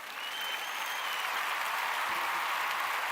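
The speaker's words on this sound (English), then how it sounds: "A round of applause for my wingman here tonight, the lovely Michelle." A church audience claps for a woman named Michelle, a continuous, full round of applause that swells in the first half second and holds steady and loud to the end.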